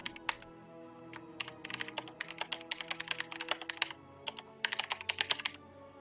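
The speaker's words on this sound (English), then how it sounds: "Heavy typing. Yes. Heavy mechanical typing." Heavy mechanical keyboard keys clack in quick irregular bursts of typing, close and crisp, continuing for several seconds with short pauses between runs.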